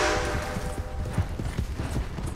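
Horse hooves clip-clop at a steady walking rhythm in Red Dead Redemption 2, moderately close and fairly quiet, with no talking over them.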